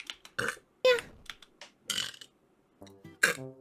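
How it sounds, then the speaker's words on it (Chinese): A Vtuber burps several times up close, a series of short, loud, throaty bursts with brief gaps between them, ending in a voiced, tonal belch. "打个嗝去"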